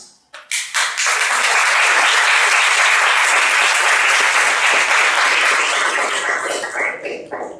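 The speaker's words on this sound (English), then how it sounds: "I would add on to the clapping saying well said" An audience at a panel discussion on Indian doctors bursts into applause after a few scattered claps, then keeps up a loud, dense round of clapping that thins toward the end.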